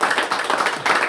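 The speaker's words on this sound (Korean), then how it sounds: "하나님께 감사하며 박수하겠습니다." A church congregation at a Wednesday prayer meeting clapping together, a dense, fairly loud burst of many hands applauding close by.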